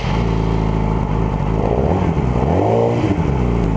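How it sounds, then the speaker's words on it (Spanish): A Yamaha R6 sport motorcycle engine runs loud and close, holding a steady idle drone before rising briefly in a rev near the end. "Vamos a escuchar primero el de la Yamaha."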